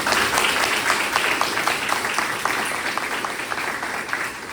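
A church congregation applauds during a Sunday Baptist worship service, a dense, steady round of many hands clapping close by that fills the whole stretch and tapers slightly toward the end.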